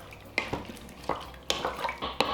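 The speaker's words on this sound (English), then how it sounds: "I'm gonna stir this around." Vegetable broth being stirred in a pot for a creamy corn chowder, with a few distinct scrapes and light clinks of a utensil against the pot, close and quiet.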